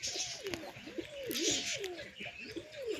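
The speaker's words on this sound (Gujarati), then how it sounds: "તો આપણે કબૂતરનું બચ્ચું લઈ લીધું ટ્રેનિંગ માટે આજથી." A young pigeon chick being started on training cooing close by, a repeated run of rolling, throaty coos over faint background hiss.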